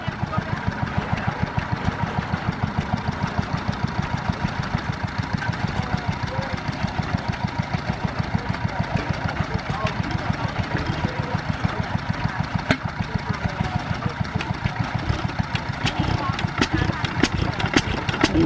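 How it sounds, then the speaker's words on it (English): A 1910 International Harvester Famous 2.5 horsepower antique engine runs steadily, its close, loud putt-putt firing beats in an even rapid rhythm throughout, with people talking faintly in the background. "This is my brother starting his engine."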